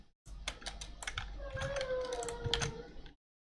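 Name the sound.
typing on a computer keyboard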